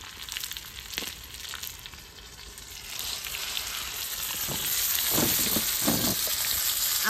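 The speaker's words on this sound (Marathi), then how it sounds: "तडका मारून घेऊ आता चटणीला." Chili pieces and asafoetida hit hot oil for a chutney tempering, producing a steady crackling sizzle that swells louder toward the end with sharp pops, heard up close without speech.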